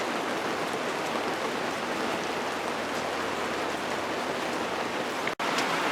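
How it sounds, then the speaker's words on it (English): Steady rain falls after a night of downpour near a creek, a dense even hiss of drops on surfaces, constant and fairly close with no voices. "It's been raining all night."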